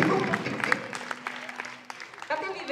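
Applause from a live audience at a blues concert at Palazzo Torri, moderate clapping under a voice speaking over it, fading into scattered claps and chatter.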